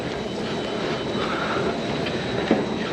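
Steady rumbling hum of a metro train at New Delhi Station in India, a continuous mechanical drone with faint clunks, fairly loud and close.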